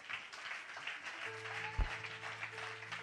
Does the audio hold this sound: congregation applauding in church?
yes